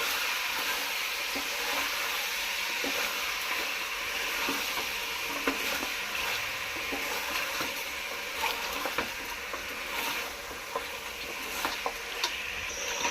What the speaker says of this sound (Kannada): ಇವಾಗ ಎಣ್ಣೆಗೆ ಹಾಕಿರೋ ಮಟನ್ನ ನೀಟಾಗಿ ಹಿಂಗೆ ತಿರ್ಗಿಸ್ಕೋಬೇಕು ನೋಡಿ